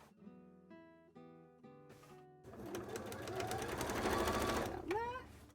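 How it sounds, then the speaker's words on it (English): Sewing machine stitching a loop onto a heavy cosplay piece, a steady close mechanical whir that runs for a few seconds after some brief tonal beeps, with no voices. "I can sew this on the machine, which is really nice because it means it'll have a really nice strong connection."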